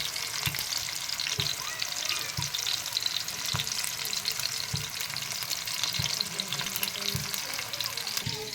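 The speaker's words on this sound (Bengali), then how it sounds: "ভাজতে শুরু করেছি আমি। চুলার তাপটা আমি একটু বাড়াই দিলাম" Fish sizzles in a pan on a stove with the heat turned up, a steady hiss broken by regular soft knocks of stirring, with no talk.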